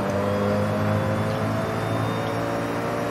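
Engine drone from Koenigsegg Agera and Koenigsegg One:1 cars accelerating in a Forza video game drag race, a continuous loud, steady high-revving roar with no break.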